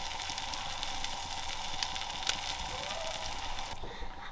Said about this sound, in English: we're going to put the bread onto the pan